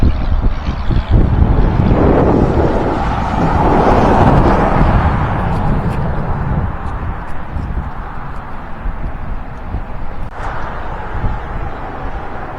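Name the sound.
strong wind on microphone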